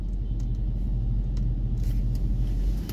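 Steady, close road traffic gives a continuous low rumble of vehicle engines throughout, with no voices over it.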